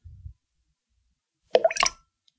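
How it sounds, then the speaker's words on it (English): Egg white for a White Russian-style cocktail is poured into the drink, a soft plop followed by a short wet glugging splash, close and quiet in otherwise silent surroundings. "The grossest part about this is pouring the egg white into the drink."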